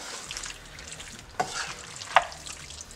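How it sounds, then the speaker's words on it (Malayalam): Chicken being stirred into kadai masala in a hot pan for restaurant-style kadai chicken, a steady fry under a spoon that scrapes near the middle and clacks sharply toward the end. "ചിക്കൻ ഇതിലേക്ക് ഒന്ന് മിക്സ് ചെയ്ത് വേവിച്ചെടുക്കാം."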